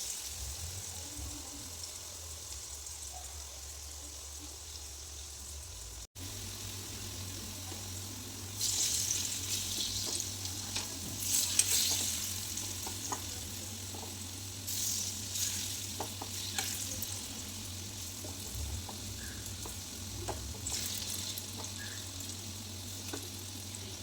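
Potato pakoras deep-frying in oil in a wok, a steady close sizzle with a low hum beneath, growing brighter and busier partway through as more pieces go in, with faint stirring.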